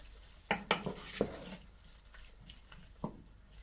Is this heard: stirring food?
yes